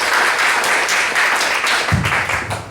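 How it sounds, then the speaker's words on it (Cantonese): A church gathering breaks into applause for a visiting friend and a pastor couple, a steady round of clapping from the congregation that tapers near the end, with a brief low thump partway through. "我哋真係俾掌聲佢"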